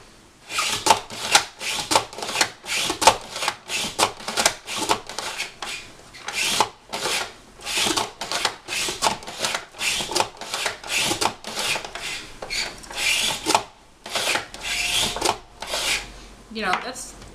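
A sliceOmatic vegetable slicer cutting carrots, giving a steady run of rasping, scraping strokes in quick bursts with brief pauses, close and fairly loud.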